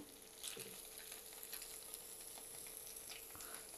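Mustard greens frying in a pan with oil, a soft continuous sizzle with light crackles and a few stirring clicks, quiet and without talk.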